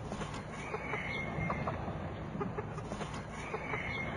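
A hen kept in a small cage clucks softly, with scattered short calls over a dense, constant background din of farm noise throughout.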